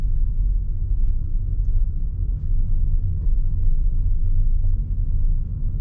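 A 2015 Toyota Auris Hybrid Touring Sports rolls along on electric power, giving a steady low cabin rumble of road and tyre noise with no engine note, constant and fairly loud.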